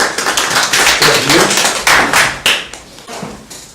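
A roomful of people gives a round of applause: loud, dense clapping close by that swells quickly, then thins out and trails off into a few last claps.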